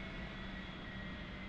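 Jet engine of an A-4 Skyhawk being throttled up in the DCS flight simulator, a steady, faint, broad whooshing roar with a thin whine running through it.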